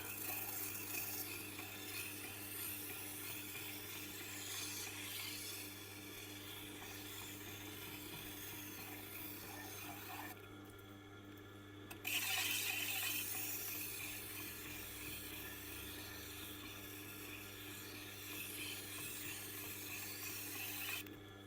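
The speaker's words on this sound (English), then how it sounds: "I'm still using the old leather wheel." A knife being honed against an old Tormek leather wheel, with a steady continuous rubbing whir that drops out briefly midway and then resumes, heard alone.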